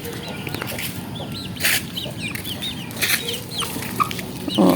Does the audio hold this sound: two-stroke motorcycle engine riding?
no